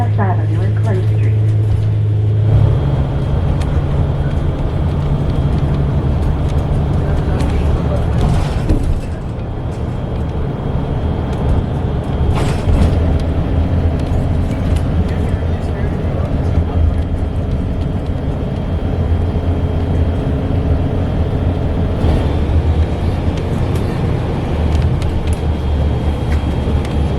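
Steady interior drone of a Gillig low-floor transit bus on the road to San Rafael, with low engine rumble and road noise throughout and a brief louder rattle midway, voices talking over it.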